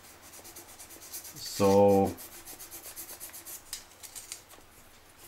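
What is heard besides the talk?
sanding and polishing guitar frets after filing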